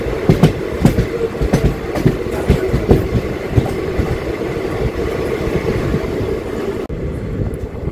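Raichur–Parbhani Express, a daily Indian Railways train, rolling along the rails with a steady loud rumble and repeated clickety-clack wheel beats throughout, no voices.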